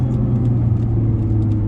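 Nissan GT-R engine rumbling at low speed while pulling into a racetrack pit lane, a loud, steady, deep drone heard from inside the car with no talk.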